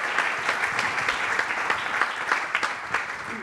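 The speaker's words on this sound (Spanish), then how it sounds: "creo que otro aplauso también para él" Audience in a forum hall claps, a steady mid-distance patter with individual sharp claps standing out, continuous throughout without talk.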